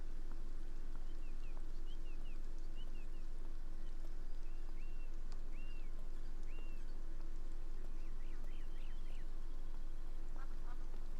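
Seagulls in the video game Beyond Eyes calling in a quiet, rainy outdoor scene, a series of short squawks repeating over a low steady hum, with a quick burst of rapid calls near the end.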